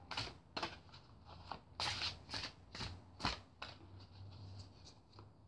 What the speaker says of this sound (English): Cards are so big, it's hard to kind of shuffle these.